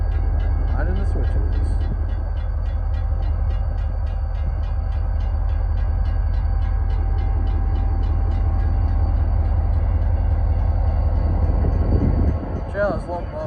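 Wisconsin & Southern locomotive (40th anniversary unit WAMX 4170) rolling through rail switches, a steady loud low rumble with rhythmic clicking of wheels over joints, fading near the end as brief voices break in.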